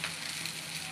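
Garlic cloves frying in hot oil for a Bengali khakrani leaf bhorta, giving a steady, close, dense sizzle that holds evenly from start to finish with no voices.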